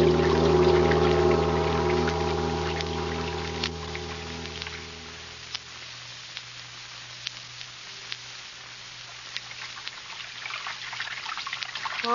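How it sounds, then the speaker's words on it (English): Water pours and trickles steadily, loud at first and then thinning to a quieter stream with scattered drips and splashes. "Sound of water so loud."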